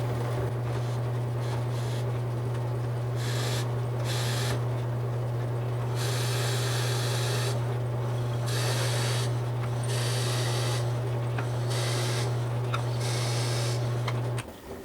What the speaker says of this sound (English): Right there, and we're ready to drill.